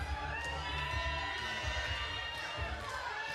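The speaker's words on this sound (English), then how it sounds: "as you can hear from the applause of the Whitehaven Massive" A wrestling crowd at a Whitehaven event roars and cheers in a continuous dense wash, loud and sustained with shouting voices blended throughout.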